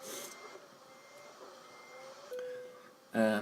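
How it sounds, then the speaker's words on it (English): A Volvo FH16 truck in Euro Truck Simulator 2 sounds repeated reversing beeps at a steady pace over a low engine hum, with a louder burst of tones at the end. "I can get rid of the beeping noise"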